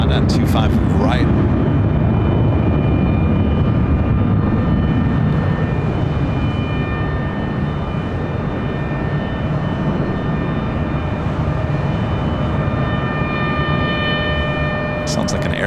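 Air start unit spinning up a jet engine on the ramp at LAX, a loud, steady roar and whine with thin tonal lines persisting throughout, close and dominant.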